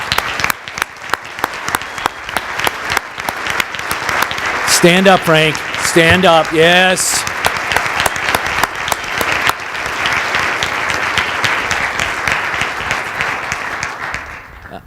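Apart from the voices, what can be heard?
audience applause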